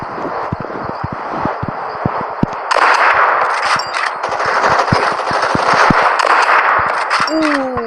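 Rapid gunfire crackles in the Blitz Brigade shooter game, a dense run of sharp shots repeating over a busy, noisy battle backdrop, with a few ringing metallic tones near the end.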